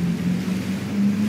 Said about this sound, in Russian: Идеально угнал катер.